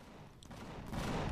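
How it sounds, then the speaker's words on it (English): Defensive guns open fire on a delivery shuttle in the space survival game Empyrion - Galactic Survival: a short burst of rapid gunfire that starts quietly and swells into a louder, sustained barrage, with no talking. "Let's let the guns take out the shuttle."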